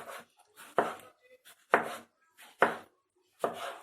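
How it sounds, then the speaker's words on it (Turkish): Peeled tomatoes being finely diced with a knife on a board, five crisp separate chops spaced about a second apart, close and alone in a quiet kitchen. "ufak ufak ince ince doğrayacağız."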